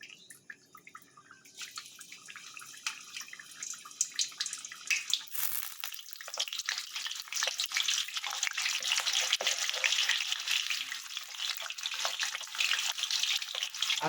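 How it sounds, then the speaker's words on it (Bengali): Potato pieces fry in hot oil for a chicken aloo curry, a soft hiss at first that swells into a loud, continuous sizzle. "এবার আলুটা আমি ভেজে নিচ্ছি"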